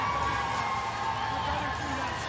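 A crowd roars and cheers steadily at a bare-knuckle fight in Florida, a continuous wash of voices with a commentator talking over it.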